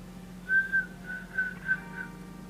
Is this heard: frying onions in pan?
no